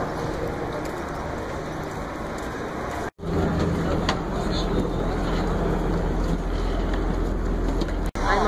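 Steady loud rumble of wind and engine noise on a moving ferry, continuous throughout with a couple of brief dropouts.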